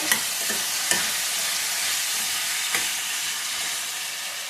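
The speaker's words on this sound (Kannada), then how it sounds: "ಒಂದು ಇಂಚು ಶುಂಠಿ ಒಂದು ಗಡ್ಡೆ ಬೆಳ್ಳುಳ್ಳಿ ಮೀಡಿಯಮ್ ಇಟ್ಕೊಂಡು ಫ್ರೈ ಮಾಡ್ಕೊಳ್ಳಿ ಅದು ಫ್ರೈ ಆಗಬೇಕು" Chopped ginger and garlic fry in a pan for a soya gravy. A steady, close sizzle is broken by a few sharp clicks of stirring, and no one speaks.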